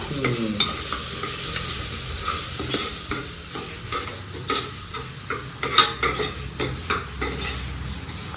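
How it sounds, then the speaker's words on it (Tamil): Chilli powder, turmeric and biryani masala stirred into a sizzling pan for mushroom biryani, with repeated scraping strokes of a spoon over a steady frying hiss, close and clear. "எல்லாம் போட்டு மிக்ஸ் பண்ணிக்கலாம்."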